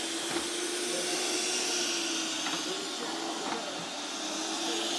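A vacuum cleaner running on a home floor gives a steady, loud motor drone and airy whine, close by and continuous, with faint bumps as it moves.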